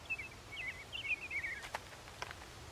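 Birds chirping outdoors, a quick series of high thin faint twittering calls followed by a few short clicks, with no talking.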